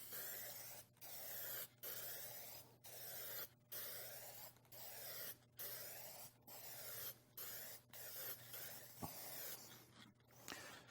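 Catalyzed lacquer sprays from a spray gun onto painted wood in a regular series of even hissing passes, each about a second long and separated by short pauses, close up with a low steady hum beneath.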